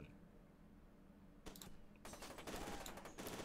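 Gunfire in F.E.A.R. 2, a short crack followed by a rapid burst of shots, quiet and sharp over a low background rumble.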